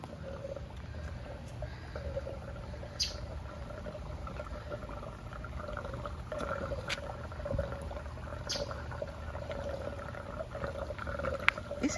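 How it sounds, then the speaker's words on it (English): Soft, steady trickling of flowing water from a display hot spring in Hot Springs, Arkansas runs throughout, faint and continuous, with a few scattered light clicks. "I hear water."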